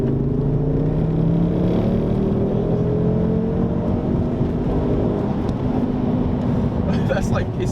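Turbocharged Ford Focus ST engine pulling hard in third gear on a road, a loud steady drone with rising engine tones under constant road roar as boost builds.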